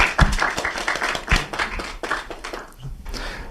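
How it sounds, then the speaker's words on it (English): A short burst of applause from a small group at a conference session, scattered claps that thin out quickly and fade within a few seconds. "Can we have a round of applause for the jury?"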